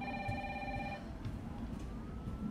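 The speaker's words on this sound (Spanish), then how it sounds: "está sonando el teléfono" A telephone rings in the Resident Evil 3 Remake video game: a steady electronic ringing tone for about a second, then it fades into a low rumbling, noisy game background.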